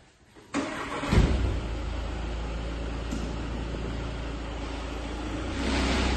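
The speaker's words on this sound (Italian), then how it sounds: "salite in macchina insieme a me e andiamo anche a fare un giro di prova su strada" A Volkswagen Tiguan 2.0 TDI diesel SUV with DSG gearbox and 4Motion starts up and pulls away on a test drive, a sudden engine onset followed by a steady close rumble that swells slightly near the end.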